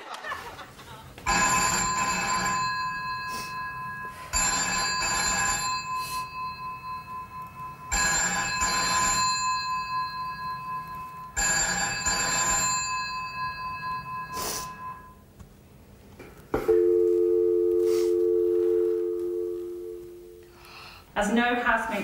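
An unanswered telephone rings in four long repeated bursts with short pauses between, followed by a lower electronic tone; no one picks up.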